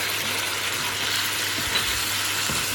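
A Singapore MRT metro train rumbles past with a broad, continuous roar of wheels on track, steady and fairly loud throughout, with faint squeals here and there.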